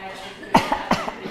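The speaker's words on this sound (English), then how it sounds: "and cough." Two short coughs close to the microphone, spaced under half a second apart, after a brief murmur of room sound.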